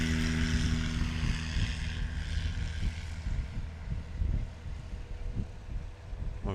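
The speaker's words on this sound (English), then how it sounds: "He's going to give it some throttle and slowly see the tail come up" A STOL airplane throttles up for takeoff at Ontario Municipal Airport, its propeller engine droning steadily and loudly with low pulsing throb and some wind buffeting, no voices.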